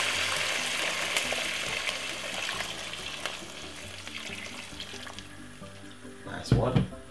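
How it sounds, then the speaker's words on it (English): Roughly three cups of water run and splash steadily into a cooking pot for jerk chicken sauce, with kitchen clatter and a brief louder knock near the end. "we're gonna add some water to it"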